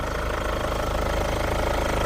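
A Hyundai Santa Fe CM with a 2200cc VGT diesel engine and about 59,000 km idles steadily, a close, even low rumble with a rhythmic diesel clatter and no talking.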